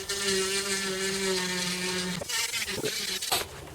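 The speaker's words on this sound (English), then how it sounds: "I'll just use the grinder here just to smooth the end of it off." Grinder smoothing the end of a metal part during a Commodore Amiga Mediator PCI repair, a steady high-pitched whirring drone that runs close and loud before breaking into rougher grinding contact and spinning down.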